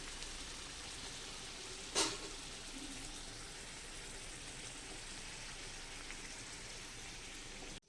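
Puri deep-frying in hot oil for a Gudi Padwa meal in a home kitchen: a soft, steady hiss of sizzling, broken by one sharp clatter near the start, with no talking.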